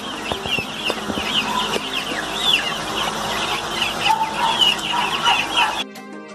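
Young fancy hen chicks, about 10 to 15 days old, in brooders on a poultry breeding farm, a dense chorus of high cheeps and soft clucks close by, continuous and overlapping, stopping abruptly at the end.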